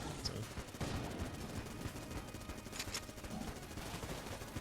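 Vulcan cannon firing in the video game Enter the Gungeon, rapid continuous gunfire forming a dense, steady rattling roar with a few sharper bursts over it.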